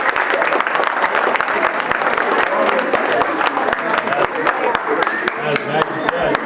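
A crowd at a peace march gathering applauds the police department, dense steady clapping close and loud for several seconds, with voices faintly mixed in.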